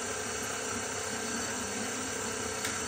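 An electric mixer whizzes icing sugar and butter together for a sponge cake, a steady, continuous motor whine heard close and loud with no break or talk.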